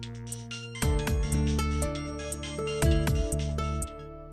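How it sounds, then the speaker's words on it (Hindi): A phone ringtone plays a repeating electronic melody, clear and close, with no voices. "आपका फोन बज रहा है।"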